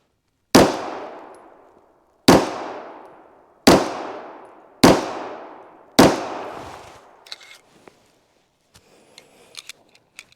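Five loud, sharp Sig Sauer P320 pistol shots crack at a steady pace at VP3 body armor, each with a ringing decay, followed by faint metallic clinks and rustling.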